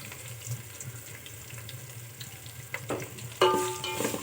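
Onion, garlic, curry leaves and fennel sauté in hot oil for a dried fish curry, giving a soft steady sizzle with light stirring scrapes, then a louder clattering stir near the end.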